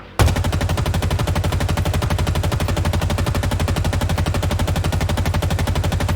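Sustained automatic fire from the AR assault rifle in Halo Infinite, a rapid, steady stream of loud, evenly spaced shots running unbroken from start to finish with no talk.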